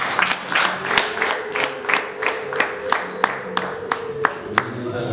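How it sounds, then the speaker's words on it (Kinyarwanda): At a wedding reception, a crowd claps in a steady, even rhythm for the couple. A sustained voice carries over the clapping, and other voices can be heard underneath. "nyamuneka mubaha amashyi n'impundu abantu"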